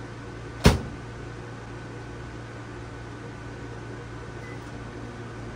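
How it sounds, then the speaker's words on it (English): A kitchen microwave oven runs with a steady low electrical hum and whirring fan noise, opened by a sharp click near the start, quiet and close with no talking. "I think I'm just going to use the microwave today,"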